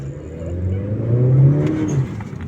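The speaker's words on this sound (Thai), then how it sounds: "มีโบออฟใส่มาด้วยนะ ถ้าใครได้ยินเสียงเนี่ย มีวุชีวุชีครับโบออฟก็ใส่มาให้ด้วยนะ" A 2017 Honda Civic with the 1.5-litre turbo engine revs up near the microphone, its rough mid-pitched engine note rising and then falling away, with a brief airy whoosh from the blow-off valve as the throttle drops.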